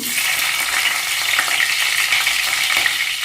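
Cloves, cinnamon, chillies and onions fry in oil for a chicken curry, giving a steady, close hiss and sizzle that runs unbroken with no voices.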